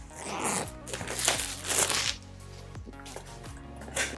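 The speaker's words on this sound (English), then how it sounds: "Let's peel this." Packaging peeled off a Nooie Cam 360 camera box, heard as close crinkly tearing and zipper-like ripping in short bursts over a faint background hum.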